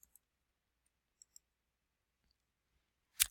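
A computer mouse gives a few faint, sharp clicks spread apart in a quiet room, followed by a louder, brief burst at the end.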